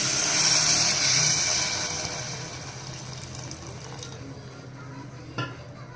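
Water pours into a cooker of dal with bottle gourd while cooking, a loud steady splashing stream at first that tapers off into quieter trickling, with a brief clink near the end.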